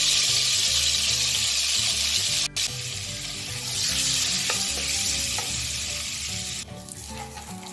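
Cumin seeds sizzle in hot oil for pav bhaji, a loud continuous frying hiss with a sharp click partway through and light stirring toward the end.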